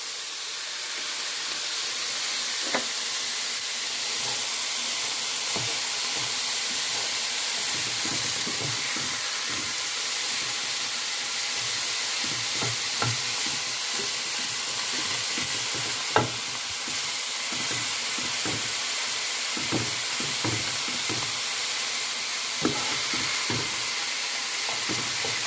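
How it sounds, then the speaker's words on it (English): Ground beef browning in a pan for poor man's goulash, a steady close hiss and sizzle with scattered light taps of stirring throughout, no voices. "Now that the ground beef is browned, I'm going to add my mixture here."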